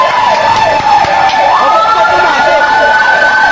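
A loud, wailing fire truck siren rising and falling continuously, close by at a house fire in Pasig City, Philippines, with busy street noise underneath.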